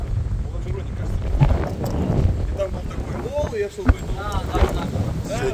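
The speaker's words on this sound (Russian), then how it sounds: "Сегодня очень ветрено." Strong gusts buffet the microphone in loud, uneven bursts, with people talking underneath.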